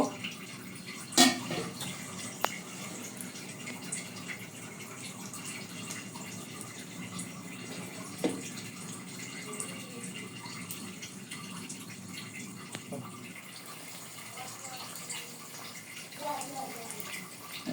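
Rice-flour pitha frying in hot oil gives a soft continuous sizzle and bubbling hiss with a few sharp clicks and pops, fairly quiet and close, with a voice talking faintly at times.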